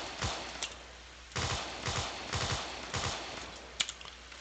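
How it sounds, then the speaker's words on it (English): Machine gun fire in the video game Arma 3, several short bursts of rapid shots separated by brief pauses, sharp and close, with a single crack near the end. "I'm just going to gun them down right here"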